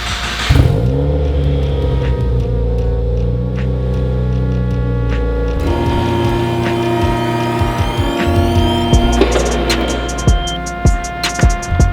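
A 2015 Subaru WRX engine rumbles steadily up close, then revs and shifts as the car is re-parked in a garage bay, with no talking over it.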